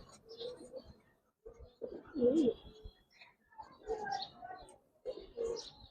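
Pigeons, including a large female, coo in soft repeated bursts while being held and shown by hand, with quiet voices and handling noises in between.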